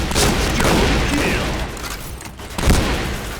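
Gunfire in the shooter game Point Blank on a new deathmatch map: loud, dense bursts of rapid shots crowding together, with a sharp fresh volley near the end.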